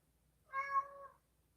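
A single cat meow, a short drawn-out tonal cry lasting about half a second, close by and fairly quiet against a near-silent background.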